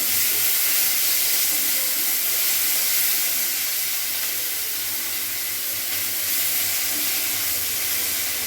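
Chopped onion hisses and sizzles steadily in hot oil in a pan, a loud, continuous frying sound with no voices over it.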